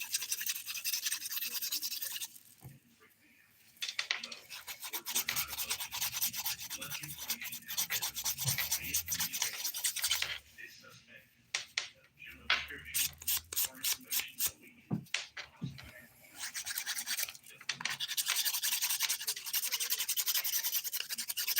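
A fingernail file rasps across fingernails in close, repeated strokes, alternating long steady passes with quick short bursts and brief pauses between nails.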